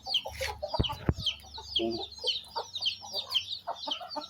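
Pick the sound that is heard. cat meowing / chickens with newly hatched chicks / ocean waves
chickens with newly hatched chicks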